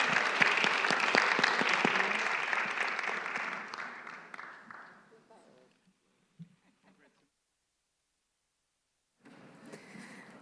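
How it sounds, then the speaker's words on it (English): Audience applause for a panel at a Bucharest policy forum, loud and dense for about five seconds, then fading into silence before a short burst of clapping returns near the end. "Please, let's give a round of applause to this exceptional panel."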